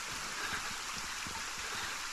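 Rain falling in the Fragmented video game, a steady dense hiss with soft patter throughout the short stretch, alone with no talk.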